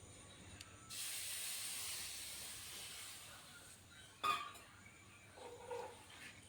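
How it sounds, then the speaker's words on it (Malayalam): Water is poured into a spice paste for fish curry, making a soft, steady hiss for a couple of seconds. A few faint clinks and knocks follow in a quiet kitchen. "ഇനി വെള്ളവും കൂടെ ഒഴിച്ച് കൊടുക്കുക."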